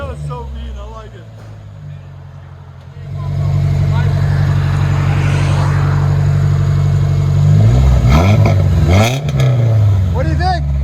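A 1984 BMW 318i fitted with a Flowmaster Super 10 exhaust and high-flow cat idles low and steady, then its engine is blipped into loud, close revs that climb and fall twice near the end.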